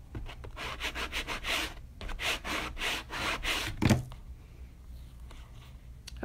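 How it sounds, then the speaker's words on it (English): A stencil being burnished down onto a glass bottle, a close, steady rubbing scrape with rapid back-and-forth strokes, then a brief bump and a quieter stretch. "Let me burnish that down a little."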